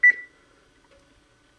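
A kitchen oven's timer gives one short, loud electronic beep as it is set, with a faint second tone just under a second later, then near silence.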